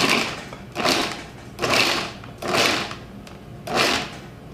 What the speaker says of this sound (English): I'm going to pop them into my food processor as well